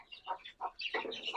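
Farm chickens cluck nearby in short, uneven bursts, with a few separate calls followed by overlapping clucking from several birds.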